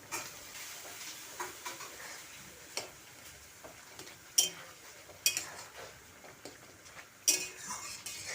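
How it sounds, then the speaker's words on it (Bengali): Bhujia tossed into boiled potatoes in a pan and stirred, giving scattered light clinks and ticks of a spoon against metal over a faint sizzle, close and sparse. "এখন আমি ভুজিয়া দিয়ে দেব"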